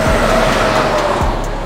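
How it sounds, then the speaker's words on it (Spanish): Highway traffic rushes past at around 80 miles per hour, a continuous loud roar of tires and wind with a couple of distinct passing swells, heard from very close beside the road. "Y los carros pasando a 80 millas por hora"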